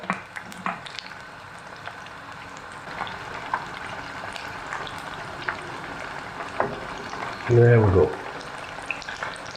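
Onion bhaji batter frying in very hot oil, a quiet, continuous crackling sizzle with small pops and a brief louder clatter near the end, while someone speaks a few words.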